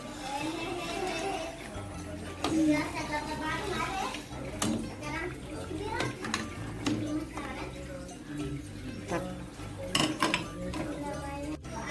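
A spoon stirs shrimp broth in a pot, with light metallic scrapes and clinks against the pot's sides under an ongoing talking voice, close and moderately loud.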